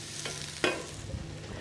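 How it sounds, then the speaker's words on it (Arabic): Onions frying in a small pan, a steady low sizzle with a couple of short scraping stir sounds near the start; no talking. "رح اخذ هيدا البصل حطهم كمان قليهم شوي صغيرة مش كتير"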